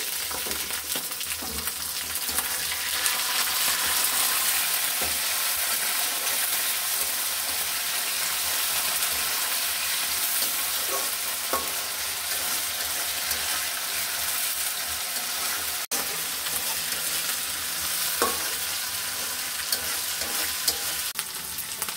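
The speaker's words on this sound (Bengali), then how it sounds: "চিংড়ি মাছটাকে একটু ভালো মতো ভেজে নিতে হবে।" Prawns sizzling and frying in a pan for a Bengali dish with pumpkin leaves and potatoes, a steady loud crackle with occasional stirring clinks throughout.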